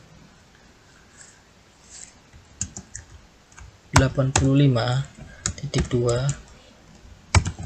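Typing code on a computer keyboard: sparse clicks at first, then a dense burst of keystrokes, with someone talking over the typing in the middle.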